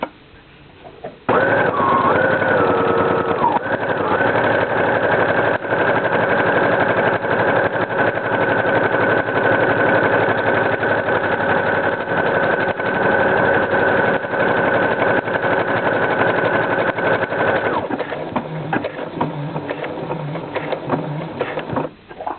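A sewing machine stitches a buttonhole, its motor running in a fast, steady mechanical whir for about fifteen seconds before stopping, close and loud, with a little handling noise at the end.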